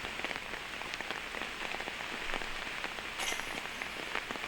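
Steady rain patters on the grounds of a disc golf course during a professional tournament round, a dense even hiss of drops with a few sharper splashes, continuous and fairly close throughout.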